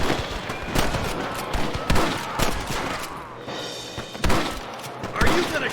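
Gunfire in a western video game shootout against rustlers: repeated sharp shots and thuds crack out in irregular bursts, loud and close, layered over a busy mix of game sound effects.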